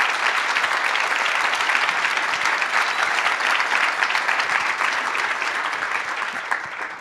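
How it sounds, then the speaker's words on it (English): A conference crowd at the 2018 National Bike Summit claps steadily in sustained applause, dense and even, fading slightly toward the end. "as long as you want to clap for that"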